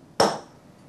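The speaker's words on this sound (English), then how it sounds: "Using this with a hammer" A hammer strikes a steel center punch set on a metal workpiece with one sharp, close metallic tap that rings briefly and fades, with no other sound around it.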